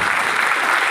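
Steady, dense applause from an audience, continuous and fairly loud throughout with no voices over it.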